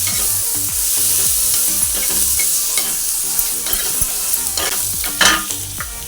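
Onion frying in a pan, a loud close sizzle with repeated scraping and stirring strokes and a few sharper clicks of a utensil against the pan.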